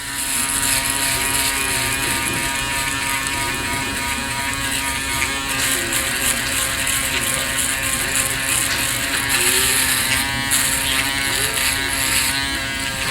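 An Andis reSURGE electric shaver cutting unshaved facial stubble, a close, continuous high-pitched motor buzz with faint crackling of hairs being cut, steady throughout and with no talking.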